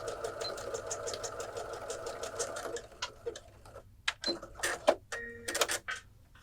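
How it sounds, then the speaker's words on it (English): A sewing machine runs zigzag stitches through knit fabric for a child's skirt waistband, a steady rapid whirring for about three seconds before breaking into short stop-start bursts and small handling clicks. "I just do lots of zigzag stitches"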